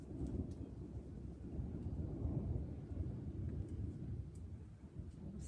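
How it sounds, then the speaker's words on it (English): Deep, continuous thunder rumbles through a thunderstorm, a low rolling growl that swells and ebbs for several seconds with light rain and faint wind underneath. "I'm so glad Jinx isn't afraid of thunder."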